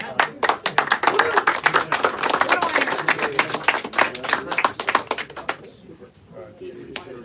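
A room of listeners bursts into dense clapping at the end of a port-alliance agreement signing presentation, sustained for about five seconds with some talk underneath, then tapering to a few scattered final claps.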